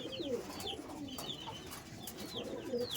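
Home-bred Kalanka pigeons coo softly nearby, several repeated low coos in a loose rhythm over faint background noise, with no talk.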